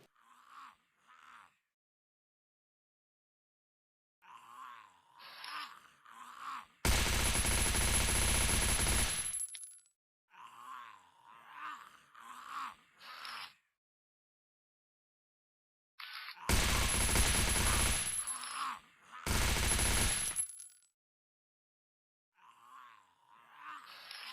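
Gunfire at an underwater zombie in the video game Rust Mobile: sustained loud bursts of automatic fire, several seconds each, alternate with groaning and moaning zombie cries between the volleys.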